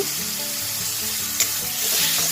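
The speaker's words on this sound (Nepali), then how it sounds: "त्यसपछि हामीले यो रातो पाकेको टमाटर फ्राई गर्दैछौँ।" Ripe red tomatoes with salt fry in a pan, giving a dense, steady sizzle and crackle that stays loud and close throughout, with no talking.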